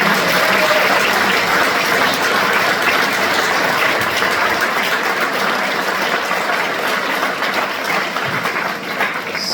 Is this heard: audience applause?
yes